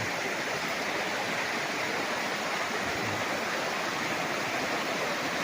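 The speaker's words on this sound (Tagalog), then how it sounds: "dinig na dinig natin ang lagaslas ng ilog mga kapops, no? Lagaslas ng tubig." River water rushing beside a farm lot in Liliw, Laguna, a steady broadband hiss of flowing current, constant and fairly close with no voices.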